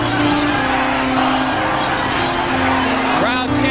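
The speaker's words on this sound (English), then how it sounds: "Crowd chanting Mexico," A boxing arena crowd at a Julio Cesar Chavez fight roars and chants 'Mexico' in a loud, sustained wall of cheering, with steady chant-like tones running through the din and voices close by.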